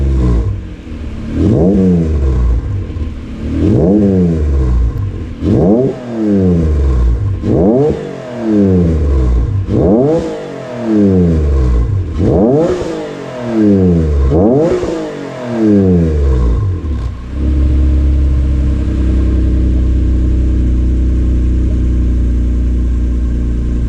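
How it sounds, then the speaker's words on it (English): Acura NSX engine with a newly fitted exhaust, revved repeatedly in about eight rising and falling blips, loud and close, then settling into a steady idle. "So give her a little bit here and then we'll rev her up here."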